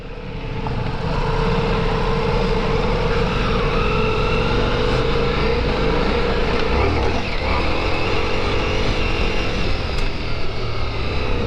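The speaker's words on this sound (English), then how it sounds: "I'm riding the new Multistrada Rally" Ducati Multistrada V4 Rally motorcycle riding along with a steady, loud engine drone and heavy wind rush, sustained without pause as the bike holds speed.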